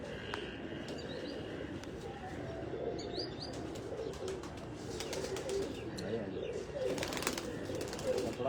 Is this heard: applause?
no